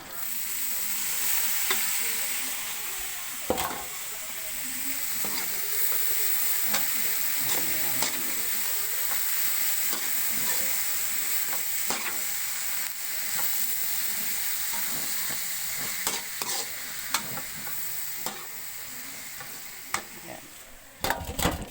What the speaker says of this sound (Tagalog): Hihalo natin sa giniling